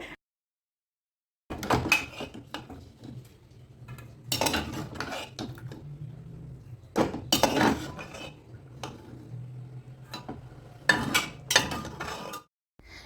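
Boiled potatoes are lifted out of water from a pressure cooker into a dish, with several bursts of clinking utensils and metal scraping separated by quiet pauses.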